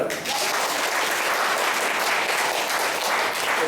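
An audience at a naturopathy medical camp in Madurai breaks into continuous, fairly loud applause, a dense even wash of clapping with no clear speech over it.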